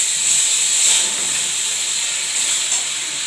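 Hilsa fish dropped into a hot pan with mustard oil, giving a steady bright sizzling hiss that holds evenly for a few seconds with no talk.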